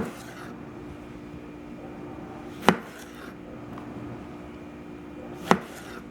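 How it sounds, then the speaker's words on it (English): Two sharp knife chops about three seconds apart as tomatoes are halved on a cutting board, each a crisp close knock over a quiet steady room hum, no talking. "so the tomatoes are all halved"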